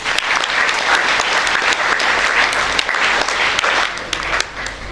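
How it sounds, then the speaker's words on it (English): Dense, sustained applause fills a school hall at a student achievement ceremony as the crowd claps for an honoured woman, loud and continuous with no break. "Can we have an endless applause for ma'am?"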